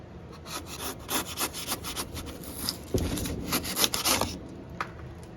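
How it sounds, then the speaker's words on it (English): Repeated rasping strokes of a skinning knife carving through foam, shaping it for a reptile enclosure, a rhythmic scratchy sawing close up, irregular in pace with no talking. "take the skinning knife and just carve away the foam"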